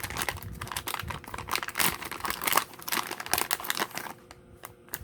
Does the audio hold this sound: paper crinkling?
yes